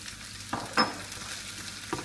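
Spoon stirring a salty sauce mixture with Maggi and Newman's sauce in a hot pan, soft sizzling with a few brief scraping strokes, close and fairly quiet, no voices.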